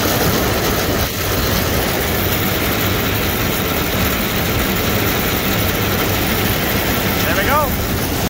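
A farm tractor idles at about 1300 RPM with its PTO running while offloading grain from a grain cart into trucks, a steady loud low droning rumble throughout, with a faint squeal near the end.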